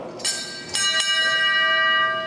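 A bell is struck three times in quick succession, its bright metallic tone ringing out clearly and lingering as it slowly fades.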